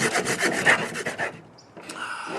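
A Gerber Sportsman's retractable saw cuts through a small branch about half an inch thick in quick, rhythmic rasping strokes, close up, then pauses briefly before scraping resumes.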